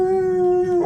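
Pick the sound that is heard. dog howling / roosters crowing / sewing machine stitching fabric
dog howling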